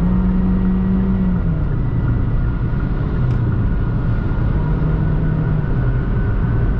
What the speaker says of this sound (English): I'm gonna change lanes and floor it